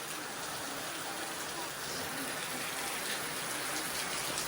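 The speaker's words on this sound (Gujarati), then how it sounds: "તો આજે વરસાદ આવી ગયો છે" Steady rain pouring down outdoors in a village in Mahuva taluka, a continuous broadband hiss of drops with no letup across the whole stretch, fairly loud and even.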